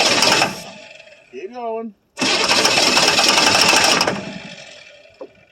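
A 1982 Chevrolet Silverado K10 with a 6.2 liter diesel engine cranks on a cold start after 23 years of sitting, giving loud, rough, churning starter bursts with a short pause between them, while a voice speaks briefly over the cranking.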